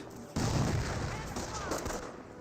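A German MG42 machine gun in Company of Heroes erupts in a sudden loud burst of rapid fire that rattles on steadily, mixed with battle noise.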